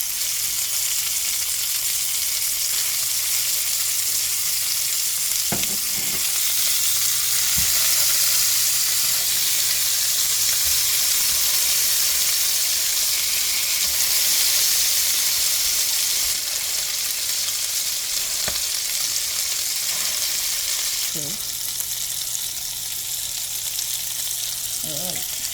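A cheeseburger patty sizzles in a pan with a continuous, fairly loud hiss that holds steady for the whole stretch, broken by a few short clicks and taps.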